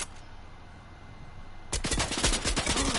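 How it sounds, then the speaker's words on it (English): Gunfire in a video game: after a quiet stretch, a sudden loud burst of rapid shots erupts and continues to the end. "It's because that guy was shooting at me."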